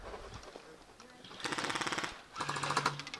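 Airsoft guns fire on automatic during an airsoft game, in two rapid rattling bursts heard fairly faint and at a distance, with talk alongside.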